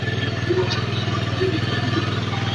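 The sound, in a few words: motorcycle engine running at too high RPM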